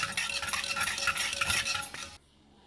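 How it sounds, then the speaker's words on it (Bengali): Curd is whisked into milk in a bowl, a quick continuous rustling, scraping stir heard up close for about two seconds before it stops abruptly. "দইটা ভালো করে আমাকে দুধের সঙ্গে এইভাবে মিশিয়ে নিতে হবে, যাতে দুধের সঙ্গে ভালো করে দইটা মিশে যায়"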